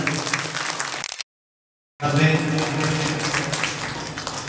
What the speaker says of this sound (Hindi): एक बार जोरदार ताली से अभिनंदन।